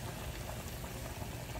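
Chicken glaze sauce hits a hot pan with a dense, even bubbling sizzle, steady and close for a moment, no voices.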